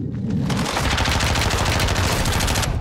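Dense, loud automatic gunfire in Call of Duty Modern Warfare 2, continuous rapid bursts overlapping with heavy booms, close and unbroken for the whole stretch.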